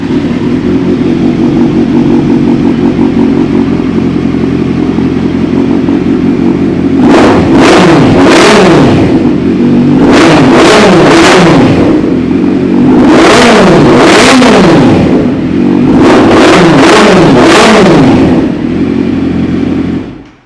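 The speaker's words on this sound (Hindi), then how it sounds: "इनलाइन 4 बाइक की आवाज़ आपको बहुत पसंद है।" A Kawasaki Z900 inline-four motorcycle engine with a full exhaust system idles steadily, then revs hard in four bursts, each rising and falling sharply, loud and close with no talking.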